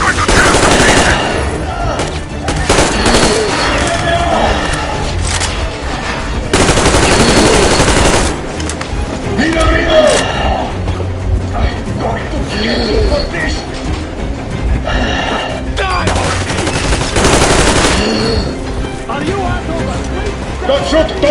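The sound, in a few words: gunfire in the video game Metro Exodus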